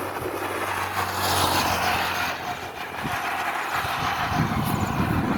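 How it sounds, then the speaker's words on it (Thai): A car engine runs steadily close by at a rural rice-field roadside in Amnat Charoen province, Thailand, a sustained loud motor rumble with slight surges as the vehicle pulls in, and no voices. "รถมาจอดตรงนี้"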